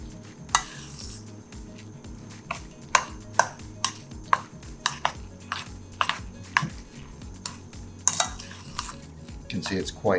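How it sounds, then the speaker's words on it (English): Egg yolks being mixed by hand into a dense grated Pecorino Romano mixture for an eggplant terrine, heard as steady stirring with repeated sharp clinks of a utensil against a bowl, with no speech. "we're also going to add those 4 egg yolks to this and mix it up."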